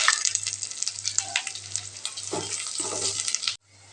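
A large chopped onion frying in hot oil, a bright, loud, continuous sizzle close up with a few stirring scrapes, cutting off abruptly just before the end.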